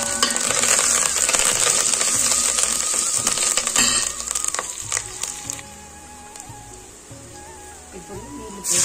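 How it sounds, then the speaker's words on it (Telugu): Curry leaves crackle and sizzle in hot oil in a pan, with a dense, bright hiss and stirring scrapes that ease off slightly toward the end. "కరివేపాకు వేసుకోవాలి."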